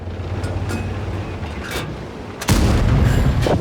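A Stridsyxa tank cannon fires in a tank video game on the Prokhorovka map, landing one heavy, sudden boom that fills the sound and holds a rumbling tail, after quieter engine hum and faint distant shots.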